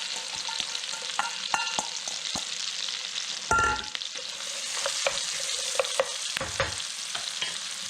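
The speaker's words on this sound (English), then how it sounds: "I'm going to caramelize some onions." Onions frying in hot oil in a pan, caramelizing, with a steady crackling sizzle throughout and brief scrapes and knocks of stirring at irregular intervals.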